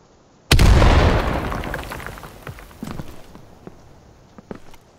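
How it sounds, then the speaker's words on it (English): A grenade detonates in a first-person shooter with a sudden loud blast and long rumbling decay, followed by scattered footsteps and small clicks as play goes on. "I threw a grenade."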